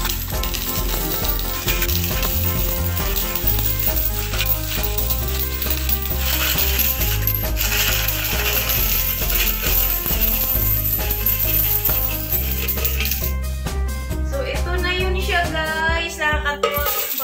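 Coins pour and clatter out of a tin piggy bank in a long, dense metallic jingle that keeps shifting and rattling, close and loud, with a brief voice near the end.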